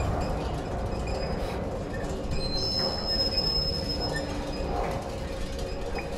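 A metro train in the video game Outlast 2 rumbles past, with a continuous rolling roar and thin high wheel squeals over the full stretch, no talking.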